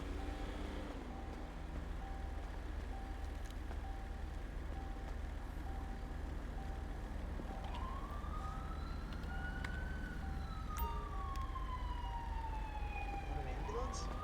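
An ambulance siren in the GTA San Andreas roleplay game wails in a rising and falling sweep over steady traffic rumble and a low engine drone, growing louder toward the end, with people talking at times.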